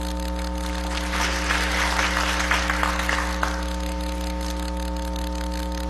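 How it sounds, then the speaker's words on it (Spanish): Applause rises in Venezuela's National Assembly, a soft, spread-out patter of many hands peaking midway and fading, set against a steady electrical hum and tonal drone in the hall. "por eso un aplauso"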